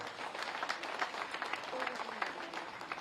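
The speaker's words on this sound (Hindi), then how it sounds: "अगर स्मिता कोविड में आपको मिली है तो एक बार जोरदार ताली बजाएं" Crowd applause at an election campaign rally for a chief minister, fairly faint and distant, a continuous patter of clapping with some voices underneath.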